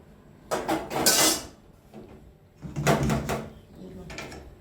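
A wok (kadai) being washed in a home kitchen while cooking bottle gourd with prawns, with two bursts of metallic clattering and scraping of pots and utensils, fairly close, separated by quieter gaps.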